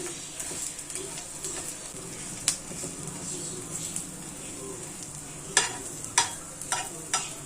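Ragi and drumstick-leaf adai cooking on a pan after being flipped: a soft, steady sizzle with several sharp scraping and tapping clicks from a spatula.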